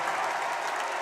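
Applause from the benches at an NCAA Division III men's college basketball game, a brief steady patter of clapping from a crowd.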